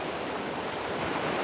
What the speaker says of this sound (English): the waves are so cool today